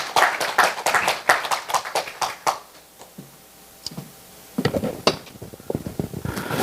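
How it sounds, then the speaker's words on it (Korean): An audience at a regional exchange lecture gives a round of applause, a dense burst of clapping that thins out, pauses, then resumes with scattered claps and some knocking. "자, 뜨거운 박수 부탁드리겠습니다."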